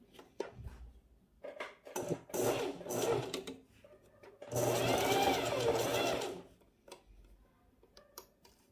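A home sewing machine stitches bikini fabric in short whirring bursts, one longer steady run in the middle, with clicks and handling noises between and someone speaking quietly at times.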